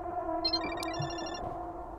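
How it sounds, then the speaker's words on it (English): A phone ringtone rings inside the video game Parasocial as a steady electronic trill over a constant background hum, with no talking. "Asuka's ringtone?"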